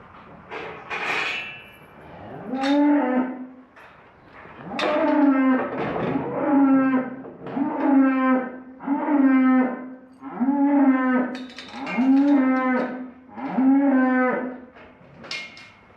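Cattle mooing repeatedly up close, a series of loud, drawn-out lows following one another with short gaps.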